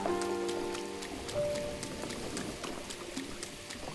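Rain pattering on a glider in Zelda: Tears of the Kingdom, a dense steady drumming of drops on taut fabric with a faint tonal hum beneath, continuous and close.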